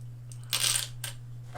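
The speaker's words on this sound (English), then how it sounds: "he is going to throw 2 dice" Two dice thrown during a Zombicide: Green Plague board game session rattle and clatter sharply on a hard surface, one main burst followed by a couple of smaller bounces, close by over a steady low electrical hum.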